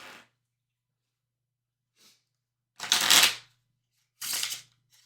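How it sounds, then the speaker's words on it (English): A deck of playing cards is riffle-shuffled by a magician, heard as two loud bursts of fluttering cards with faint handling sounds between, in a quiet room. "Let's give it a good shuffle so that those aces don't mess with anything."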